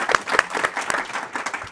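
An audience at a political science department panel on fake news applauds a newly introduced panelist, a short burst of clapping from a modest crowd, fairly close and even.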